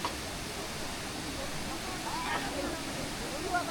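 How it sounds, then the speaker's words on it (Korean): Steady broadband rush of Bidulginang waterfall pouring into a jade-green pool in a hollow gorge, a continuous close wash of falling water with faint voices of visitors murmuring underneath. "시원한 물줄기 소리가 청량하게 들려옵니다"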